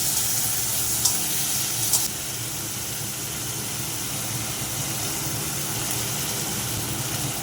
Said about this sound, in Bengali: দিয়ে দেবো একটু আদা, দিয়ে কষতে থাকবো